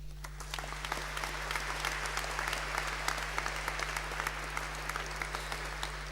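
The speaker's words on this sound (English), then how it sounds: "please keep the applause going as people cross the platform and collect their degrees" A large crowd at a Boston College graduation ceremony keeps up steady, dense applause, continuous and even throughout, heard from a distance over a low hum.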